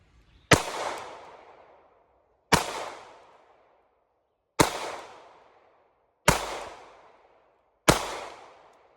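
Airsoft Draco build firing five sharp bursts as magazine dumps, each a loud crack with a decaying tail, spaced about two seconds apart with no voices between them.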